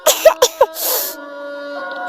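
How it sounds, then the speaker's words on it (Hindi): A small cartoon child gives a light cough in four quick, close bursts, followed by a breathy rasp and a faint lingering tone. "टोनी को पिंकू की हल्की खांसी सुनाई दी।"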